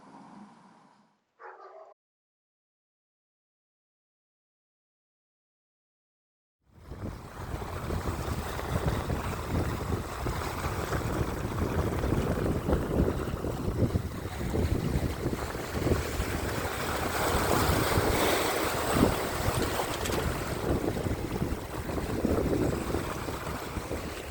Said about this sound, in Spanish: era increíble cómo aceleraba el barco con esas olas y ese viento